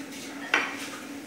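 Plates clatter as dishes are washed, one bright ceramic clink standing out over faint running background noise in a home kitchen.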